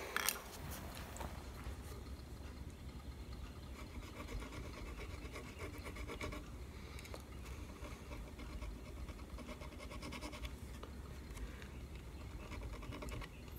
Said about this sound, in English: we want to go down each fret on corners, our tiny little fret dressing file here